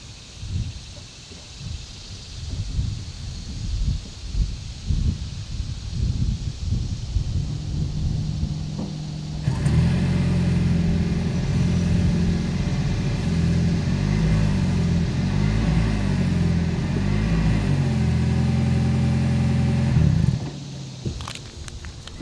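A 2020 Toyota Avalon Hybrid sedan's exhaust idles and rumbles steadily at close range after a quieter stretch of shuffling noise, then cuts off near the end.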